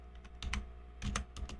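Keystrokes on a computer keyboard while writing CSS, typing opening and closing braces: a few quick clustered clicks near the start, then a denser burst of taps, close and clear with no talking.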